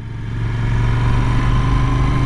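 A Royal Enfield Interceptor 650 motorcycle engine runs loud and steady during a ride, its twin-cylinder drone holding a constant tone that swells slightly as it pulls along, with no voices.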